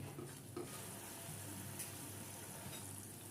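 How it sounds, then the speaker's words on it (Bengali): Spiced yogurt masala cooks in a pan with sugar and salt, giving a steady soft sizzle with light stirring scrapes throughout, close and continuous. "দিয়ে নেড়ে আর একটু ভালো করে কষিয়ে নেব।"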